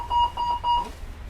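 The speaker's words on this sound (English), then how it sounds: "If you hear either of these two alarm tones, investigate immediately." A train passenger call-for-aid alarm from the saloon wheelchair bay sounds as three short, clear electronic beeps in an even rhythm, followed by a moment of quiet background.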